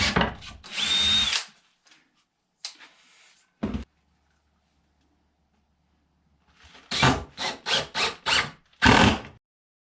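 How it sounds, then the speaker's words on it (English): A power drill drives screws into a homemade boot brush. One longer whirring burst is followed by a couple of brief blips and then a fast run of short, close, loud triggers with quiet gaps between them. "Always make sure you tighten your drill bit up all the way too."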